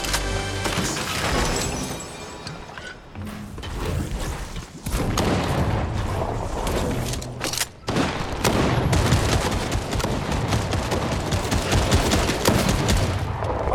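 Rapid gunfire bursts and crashing impacts from a Fortnite match, loud and dense, with short breaks between volleys.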